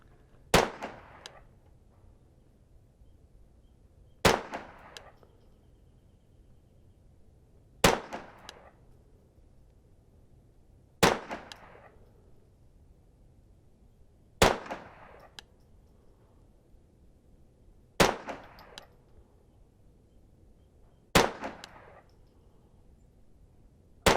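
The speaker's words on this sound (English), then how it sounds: "We fired a 10-round group." A Brownells 10/22 Takedown .22 rifle fires seven sharp, evenly spaced shots at an outdoor range, each crack followed by a brief decaying echo, with quiet pauses of about three seconds between rounds.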